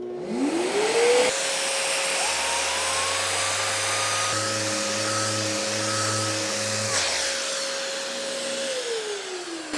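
Orbital sander connected to a HEPA vacuum runs on a cabinet, giving a loud, steady whine and roar. It holds continuously with a rising spin-up at the start and slight pitch shifts, and no voices are heard.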